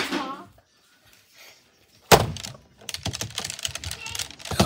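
Rapid, close computer keyboard typing follows a sudden loud thump, with a dense clatter of keystrokes over the last couple of seconds; a short bit of faint sound and silence comes before it.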